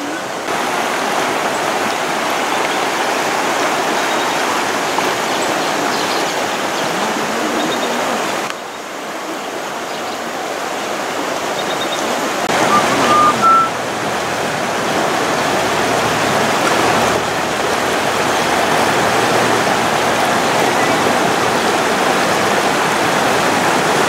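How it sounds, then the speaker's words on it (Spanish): A village river flows in a steady, loud broadband rush that continues unbroken for the whole stretch, with a brief dip and slight shifts in intensity but no voices. "ya vieron el río de nuestro pueblo"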